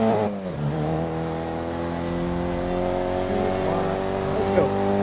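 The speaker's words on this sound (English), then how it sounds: "This is our orange mini. And racing minis." A classic Mini racing in a three-lap Classic Mini Trophy race in the GRID video game, its engine holding a steady droning whine with rising pitch as it revs, loud and continuous throughout, with a brief squeal near the end.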